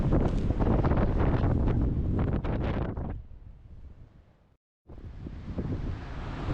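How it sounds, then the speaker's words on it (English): Strong wind batters the wild North Sea coast of Scotland in loud, gusty buffets, easing to a softer rush before cutting out briefly and then returning steady and strong. "So that was so windy."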